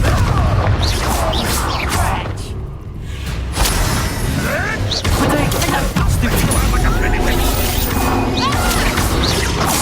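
Confringo blasting spells explode in Hogwarts Legacy, a dense run of loud booms, crashes and whooshing impacts that barely let up, with a short lull in the middle.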